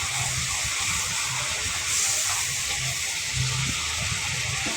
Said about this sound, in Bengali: একটু ভালোভাবে নেড়ে চেড়ে মিশিয়ে নিচ্ছি।